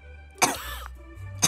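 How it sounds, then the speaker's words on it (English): Video game character coughing after breathing in with a mouthful of water: two short, sharp coughs about a second apart, close and fairly loud, with a raspy wheeze between them. "He has to cough."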